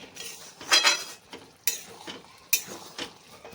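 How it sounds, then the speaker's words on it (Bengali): A metal spatula stirs dal chachchari in a pan, scraping and clinking in a few distinct bursts with quieter gaps between, close and moderately soft. "এইভাবে মাঝে মধ্যে একটু করে নাড়াচাড়া করে নিতে হবে খুন্তি দিয়ে"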